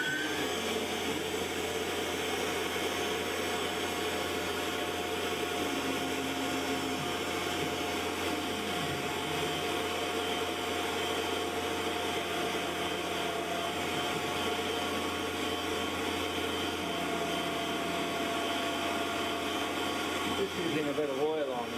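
A Tormach CNC mill running a 4th axis engraving job with oil on the work gives a steady, continuous machine whir and hum that stays constant and fairly close throughout, with faint tonal changes.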